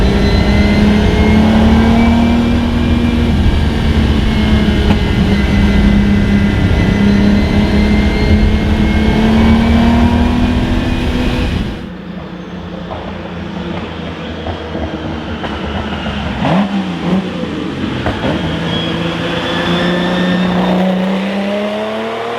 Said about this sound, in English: here we have a 1970 Lamborghini Miura P400S